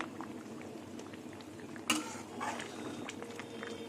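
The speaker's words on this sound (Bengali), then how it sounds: "এবার কিছুক্ষণ ঝোলটা ফুটবে" Duck egg and potato curry simmering in a pot, a soft steady bubbling throughout with a brief sharp clink near the middle and faint kitchen noises.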